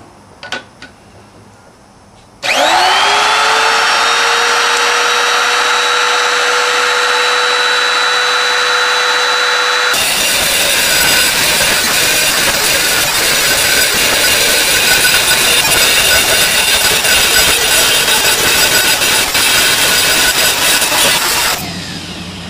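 A lathe bores out an aluminum Cadillac Escalade wheel, with a steady, loud machine whine that starts abruptly, then turns into a harsh, dense cutting roar that continues for many seconds before stopping.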